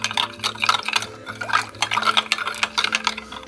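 Dry yeast and caster sugar are stirred into liquid in a small bowl, a close, wet sloshing and clinking in quick irregular strokes throughout, with no talking.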